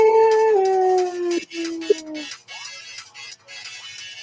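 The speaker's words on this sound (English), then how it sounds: "And you hear a howl." A long wavering howl slides downward in pitch and fades into whimpering, yipping tones, like a werewolf's cry, up close and loud with rough background rustle.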